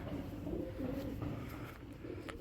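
Pigeons coo in low, rolling phrases that repeat over a faint background, near and fairly soft, with no speech.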